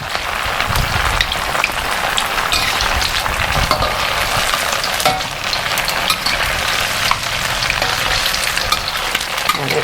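Chinese-style radish cakes frying in hot oil, a dense steady sizzle and crackle like heavy rain that holds evenly loud from start to finish with no voices.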